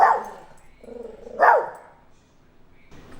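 A dog barks twice, sharp and fairly close, with a pause between the barks and quiet room tone afterward.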